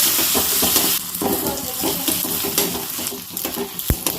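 Hot fried tempering poured into tomato dal in a home kitchen, a loud close sizzle with stirring and a few pot clinks, crackling steadily and ending with a sharp tap.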